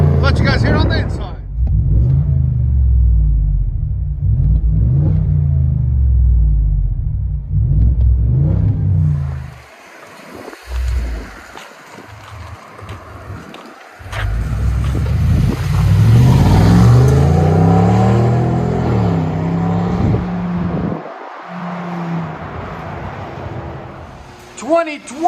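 Heard from inside the cab, a Ford F-250's 7.3 liter gas V8 exhaust is revved repeatedly, rising and falling in loud bursts with short quiet gaps, while people talk over it.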